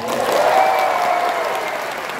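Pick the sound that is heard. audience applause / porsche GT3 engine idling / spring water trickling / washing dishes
audience applause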